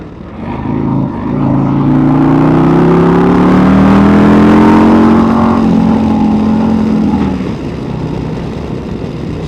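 A 2024 Harley-Davidson Road Glide motorcycle engine revs loudly while downshifting, the pitch rising and then falling as gears change, heard close with wind noise and no talk.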